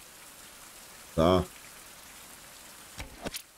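Steady rain patters across the scene in a survival video game, a soft continuous hiss running throughout, with a short spoken word and a few brief thuds breaking through.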